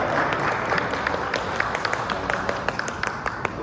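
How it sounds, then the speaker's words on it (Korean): A church congregation at a Korean Sunday worship service applauds, a close, steady patter of many hands with a few crisp individual claps poking through, lasting several seconds without speech. "우리 박수 한번 주시겠습니다."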